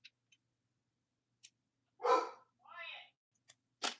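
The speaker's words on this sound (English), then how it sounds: "hence the dogs barking and the tapping commences" Dogs barking indoors, two short bursts a moment apart, fairly near, with small clicks and tapping around them and no speech.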